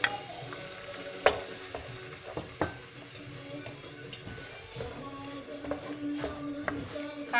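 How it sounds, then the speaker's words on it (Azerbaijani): Onion and tomato frying in oil give a moderate, continuous sizzle, with stirring and a few sharp utensil clinks against the pan and no voices. "Soğanı bir qədər qızıl rəng alana kimi qovururuq və pomidoru əlavə edirik."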